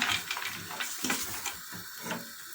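Onions fry in a pot alongside carrots and potatoes while a utensil stirs them. The close sizzle comes with repeated scraping and clinking strokes against the pot.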